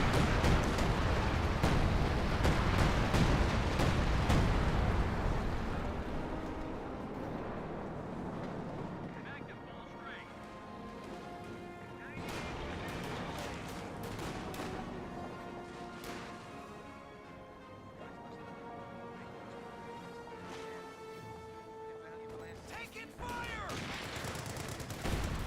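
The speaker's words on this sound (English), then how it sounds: "We got the Scavenge artillery. This will zone out everything in this region." Scavenge artillery barrage in the video game Company of Heroes 2: heavy, loud explosions and gunfire dominating the opening seconds, then thinning into scattered blasts and game noise under commentary.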